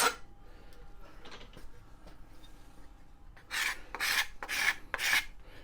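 Hand file scraping deep scratches off a steel pick axe head: a few faint scrapes at first, then four loud, close rasping strokes in steady succession.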